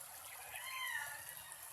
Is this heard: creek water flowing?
yes